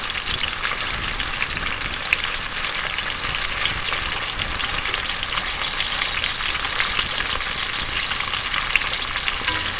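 Bacon strips fry in a pan with a dense, loud, unbroken crackle and spatter that holds steady for the whole stretch, close up and without talk.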